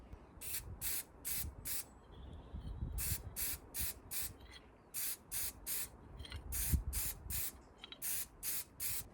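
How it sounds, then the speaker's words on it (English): Short repeated bursts of aerosol spray as lacquer is applied to engine parts for a CB Performance 2017cc long block, close and loud hissing pulses in quick groups separated by brief pauses, with no talking. "I've also given these a dust of lacquer."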